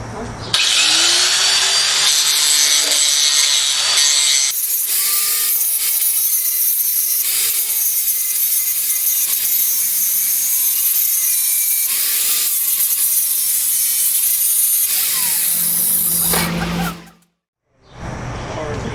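A loud, noisy power tool grinds bolt heads off large metal parts during a heavy assembly job, with a steady harsh roar over about fifteen seconds, a pitch that wavers as the load changes, and a short break before it starts up again.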